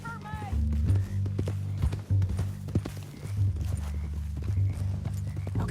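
Horse hooves clip-clop at a steady walking rhythm in the video game Red Dead Redemption II, paced beats running under a voice talking throughout, with a faint whinny near the start.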